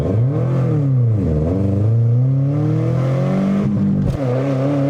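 A Subaru Legacy with a newly installed clutch accelerating hard, engine tone climbing through the revs, dipping with a shift and rising again, heard loud from inside the car with no talk.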